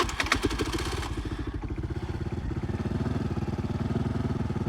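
A Euro K Blade 125 motorcycle that had refused to start cranks and catches, its engine settling into a rough, pulsing, fast idle under auto choke, close and steady with no talk.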